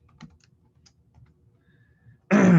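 Typing on a computer keyboard: a few faint, sparse key clicks, then a sudden loud close burst of rapid clacking keystrokes at the end, with no talk over it.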